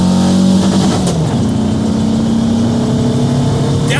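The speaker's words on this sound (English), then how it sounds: "I'm gonna rev the piss out of it. I'm gonna hit the rev limiter." An engine fitted with 96mm big bore pistons screams near the rev limiter, held at a loud, sustained high pitch with a slight dip and climb, close and overwhelming with no talk.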